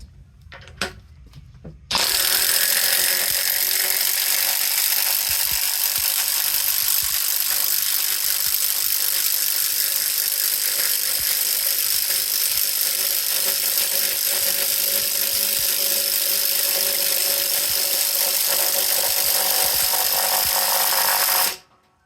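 A Metabo HPT 36V impact tool on a fully charged standard battery drives a 1/2 by 10 inch lag screw into a 6x6 wooden post, hammering loudly and steadily for about twenty seconds after a few brief clicks.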